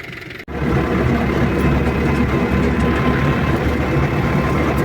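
A YuMZ 8280 tractor engine running during the first cultivation of a field for soy and sunflower, a loud steady low diesel rumble that starts abruptly after a brief drop and holds without voices.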